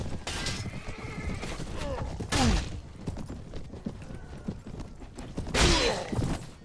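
Horses neigh and hooves clip-clop during battle in the Mount & Blade: Warband video game, with two loud whinnies among busy galloping and combat noise.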